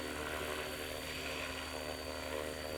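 A SAB Goblin Buddy 380 RC helicopter flies on its maiden flight, its rotor and motor giving a steady, loud whine and whir that holds constant throughout with no talk over it.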